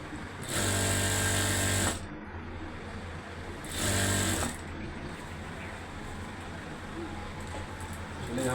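A tailor's sewing machine stitches a salwar in two loud, steady bursts, each about one and a half seconds long. A constant noisy background of room sound continues between and after the runs.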